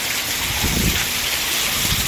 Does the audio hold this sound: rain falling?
yes